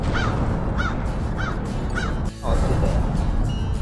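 Several crows caw in a park during a cold morning run at Little Bay Park in Queens, New York, giving loud, evenly spaced harsh calls close by over steady wind noise, with a brief handling bump midway.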